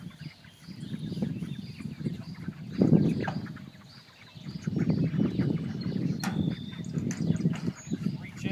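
Broiler chickens and a hen on pasture beside a movable pen on a dolly, giving soft intermittent clucks and murmurs that swell and fade over low outdoor background noise.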